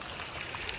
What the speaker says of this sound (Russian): Вот смотри, какой сделали этот водопад